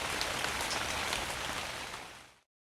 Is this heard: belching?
no